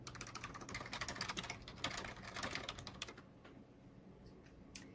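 Python code is typed on a computer keyboard in quick, uneven bursts of clicking keys, close and fairly quiet, easing into sparse taps toward the end.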